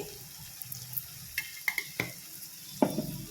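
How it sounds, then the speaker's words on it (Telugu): Bitter gourd frying uncovered in a pan for a red lentil bitter gourd fry makes a quiet sizzle, with a few clicks and scrapes from stirring and a louder clatter near the end. "ఇంకొక 2-3 నిమిషాలు మూత పెట్టకుండా ఇలాగనే వేయించుకోవాలి."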